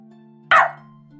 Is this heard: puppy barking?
yes